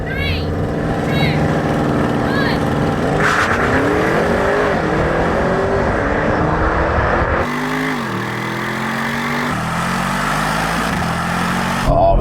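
BMW M5, Audi RS6 and Mercedes-AMG E63 S estate cars drag racing: several engines roar hard together, climbing in pitch and dropping at each gear change, loud and continuous.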